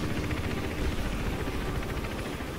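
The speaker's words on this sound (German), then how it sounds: "Geh weiter, bevor der Heli wieder zurückkommt." A helicopter circling in the stealth video game Hitman Absolution gives off a loud, steady, close rotor roar with a rapid throbbing chop and rushing noise, heard alone without talk.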